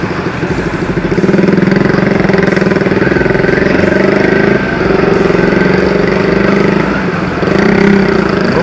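Kawasaki ZX-10R motorcycle engine running steadily and fairly loud, a continuous droning tone that holds nearly the whole time with a brief dip near the end, no talk over it.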